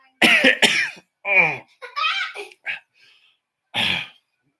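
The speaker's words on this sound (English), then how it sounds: "It is really hard to cough" A few harsh coughs and throat noises burst out up close, broken by short pauses and some strained vocal sounds.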